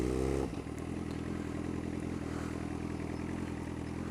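A motorcycle cruising steadily around a college campus at Western Illinois University, its engine running a continuous mid-pitched drone with some road clatter after a louder opening burst.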